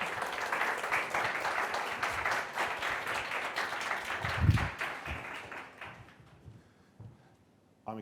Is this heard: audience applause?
yes